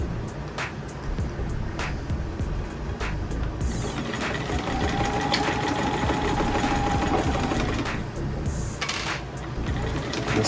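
Sewing machine stitching a cotton face mask, steady rapid mechanical chatter running throughout, with brief clicks and a couple of short pauses, close and moderately loud.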